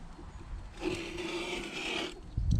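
A blade scrapes along plasterboard against a straight edge in one steady, quiet stroke of about a second and a half, followed by a soft knock.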